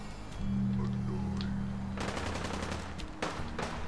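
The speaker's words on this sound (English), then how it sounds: "Ah, they're being shot up by someone else." Gunfire in the video game Fallout 4: bursts of automatic shots crackle at mid distance over a low steady hum, with the player's quiet presence nearby.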